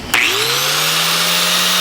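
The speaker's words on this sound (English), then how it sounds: "Now what we want to do is grind out some of these rivets." Power grinder cutting out rivets on a rusty 1949 Chevrolet gasser frame, starting abruptly and rising into a loud, sustained high-pitched whine close up.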